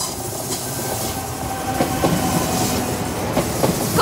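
A freight train rolls slowly through the Warsaw Główna Towarowa freight station, a loud, steady rumble with rhythmic wheel clicks over rail joints and brief metallic squeals near the end, with no voices.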